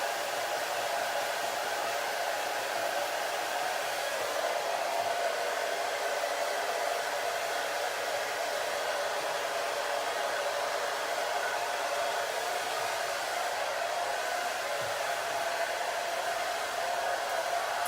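A hair dryer fitted with a diffuser dries curly hair, giving a steady, close, constant whooshing roar that runs unbroken the whole time with no voices.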